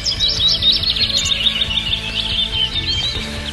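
Birds sing in a hedgerow with a steady stream of high, quick chirps and trills close by, over a faint low background hum.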